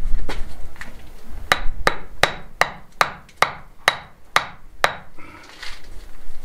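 A hammer taps a stone into lime mortar while an old stone wall is repaired: about nine sharp, evenly spaced knocks, loud and close, each ringing briefly.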